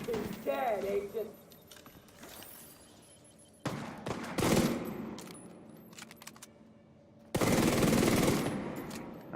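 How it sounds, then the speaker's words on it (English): Bursts of gunfire from The Division 2 arrive in separate loud bouts amid game effects, broken up by quieter gaps. A person talks over part of the clip. "I'm getting shot from everywhere now"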